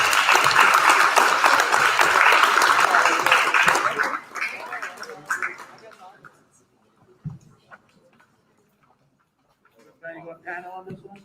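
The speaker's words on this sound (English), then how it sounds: "Please join me in a round of applause for our awardees." Applause for awardees at a high school awards day livestream, loud clapping for about four seconds that fades to scattered claps, then quiet and brief voices near the end.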